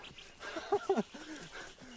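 A dog in a TV police drama scene gives a few short, moderately close barks and yips in quick succession, with a faint voice in the background.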